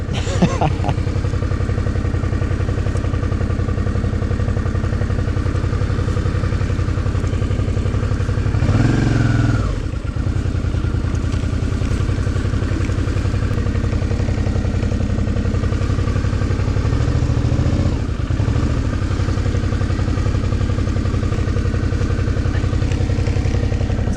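A Suzuki V-Strom motorcycle engine runs steadily and close by at low revs while turning around on a muddy mine road, with brief swells in engine note and faint clatter.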